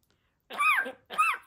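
Two short, harsh cough-like bursts, the first longer, come from a bird mimicking a human cough, close and clear against silence.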